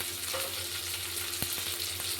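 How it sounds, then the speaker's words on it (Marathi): Peas, tomato and potato with salt fry in a pan with a soft, steady sizzle, with a few faint clicks of stirring. "मीठ घातल्यामुळे लगेच फ्राय होतोय।"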